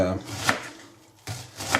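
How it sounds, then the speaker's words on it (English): Knife chopping an onion on a board for pea soup, two loud, sharp strikes about a second apart with a short pause between, no talking. "you see me chopping another onion"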